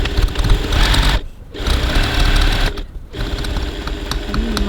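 Sewing machine fitted with a walking foot stitching handbag fabric, a loud steady mechanical whir running in bursts with two brief pauses between stitching runs.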